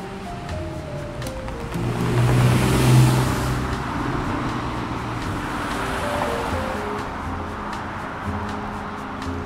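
Steady traffic on the German Autobahn in Berlin rushes past as a broad, washing roar, with a louder vehicle swelling by near the start among continuous tire and wind noise and faint low tones underneath.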